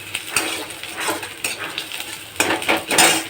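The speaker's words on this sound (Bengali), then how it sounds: "দেখো তেলে কালো জিরে ফোড়ন দিয়ে আমি পেঁয়াজটা দিয়ে দিয়েছি" Onions fry in oil with black cumin in a pan, with metal utensil clinks and scrapes breaking out sharply at irregular moments over a faint sizzle, close up and without speech.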